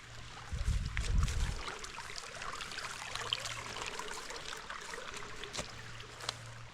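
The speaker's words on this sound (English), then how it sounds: "Creek running off of here." A creek running off a mountainside near Telkwa Pass, a soft continuous trickle of flowing water heard outdoors, with a brief low rumbling burst near the start and scattered small sounds.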